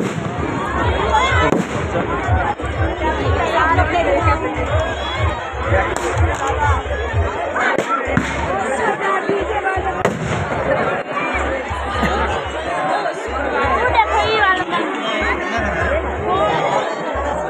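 A busy crowd at a Chhath Puja fair, with steady babble and chatter throughout plus crackling fireworks or firecrackers popping again and again, loud and close over a constant low hum.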